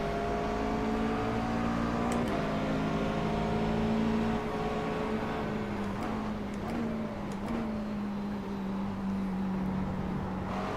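Engine note of a McLaren 12C GT3 race car lapping Donington National in iRacing, a steady droning tone that shifts pitch with gear changes and throttle, loud and continuous with faint clicks.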